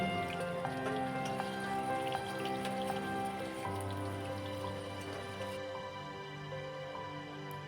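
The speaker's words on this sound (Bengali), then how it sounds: "সেই সাতটা বড়ি ভেজে তুলে নিচ্ছি" Bori lentil dumplings fry in hot oil with a faint, continuous crackling sizzle that stays steady throughout, like light rain on a surface.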